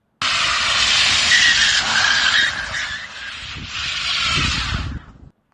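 Tesla Model 3 Standard Range with traction control off in drift mode, tires squealing in a long continuous skid with engine-free whoosh, loud and close, dipping briefly midway before surging again and cutting off.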